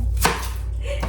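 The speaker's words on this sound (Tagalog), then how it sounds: "Slice na ako nitong onion." A knife slices through an onion on a cutting board in a home kitchen, giving two sharp chopping strokes about a second apart over a low background hum.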